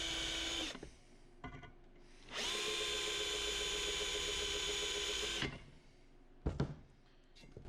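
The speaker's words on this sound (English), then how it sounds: "And I'm going to drill my pilot holes." A power drill bores pilot holes into thick flat steel stock, running in a long steady whine of about three seconds between shorter bursts and stops, loud and close with no talk.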